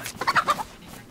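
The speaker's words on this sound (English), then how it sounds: "there's a freaking chicken here" A chicken in the survival game DayZ gives a quick burst of three or four close, clear clucks, then falls silent, with no talk over it.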